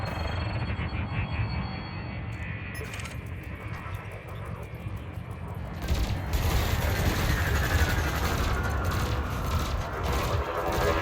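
Spaceship multi-cannons in the space combat game Elite Dangerous fire at a harmless target-practice drone, a rapid, sustained rattling burst over a constant engine drone that grows louder and denser midway.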